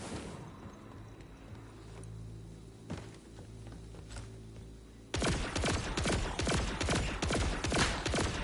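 Gunfire from an overpowered gun in the video game Borderlands 4: after a few seconds of low ambient hum with scattered single shots, a loud, rapid stream of automatic fire bursts in and keeps going.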